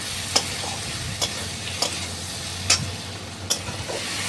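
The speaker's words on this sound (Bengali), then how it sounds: "আদাটা দিয়ে ওর সাথে ভালো করে নেড়ে চেড়ে নিয়ে যাতে সবটা মশলাটা ভাজা হয়।" Tomato, ginger and spices frying in a pan for a chicken curry, a low sizzle beneath five sharp, evenly spaced scraping taps of a spoon as the mixture is stirred.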